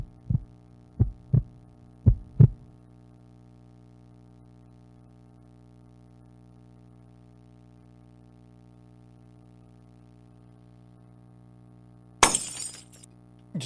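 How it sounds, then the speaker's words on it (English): Low heartbeat thuds from a horror game sound in a quick cluster of paired pulses. A long near-silent hum follows, then a sudden bright crash like glass shattering near the end. "I don't want the heartbeat stuff."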